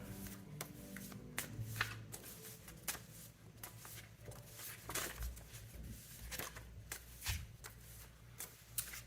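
Tarot cards are shuffled repeatedly up close, a quiet series of crisp riffling snaps and soft slaps in an uneven rhythm.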